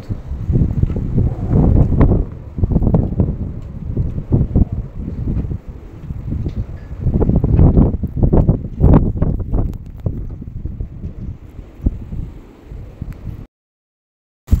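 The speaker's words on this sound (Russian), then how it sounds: "Покажу порывы ветра, какие." Strong wind gusts roaring in a November snowstorm blizzard in Altai Krai, loud buffeting rumbles hitting the microphone in surges for most of the clip before cutting to silence near the end.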